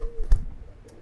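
Domestic pigeons at a pigeon seller's give a short, low coo near the middle, close by, over a soft murmur of background noise.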